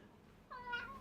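A single cat's meow, short and rising, close and clear after a half-second of near silence, with no talking over it.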